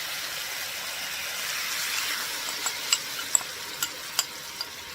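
Teriyaki chicken sizzles steadily in a pan while sauce is stirred in, with a soft broadband hiss and a few short scraping stir clicks near the end, close and with no talking.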